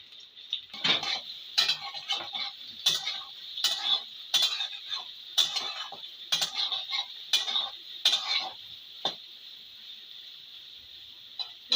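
Soaked soybeans tipped into a metal kadai and stirred, a string of sharp scrapes and clinks of a utensil against the pan over a faint steady hiss.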